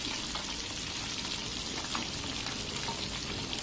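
Baung catfish frying in hot oil, a steady dense sizzle and crackle that holds evenly throughout with no talking.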